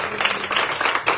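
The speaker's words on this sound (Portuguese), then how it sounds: "Aplauda ao Senhor." Brief burst of scattered applause from a church congregation during a morning service, many hands clapping unevenly at moderate volume for just over a second.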